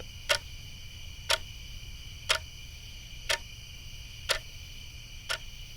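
A clock ticks in a quiet night setting, six sharp, evenly spaced ticks about a second apart over a faint low hum, with no voices.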